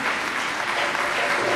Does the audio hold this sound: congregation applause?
yes